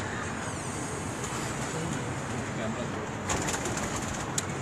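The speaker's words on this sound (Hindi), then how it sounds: "आइए उन कबूतरों की ब्रीड के कुछ चंद कबूतर आपकी नज़र करते हैं।" Teddy pigeons coo softly on a Lahore rooftop against a steady outdoor hiss, with a brief louder rustle near the end; no one speaks.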